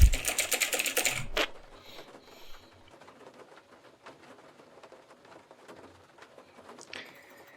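Rapid, loud clattering of a computer keyboard during a Dota 2 session opens the clip, then gives way to faint, sparse key taps over a quiet background.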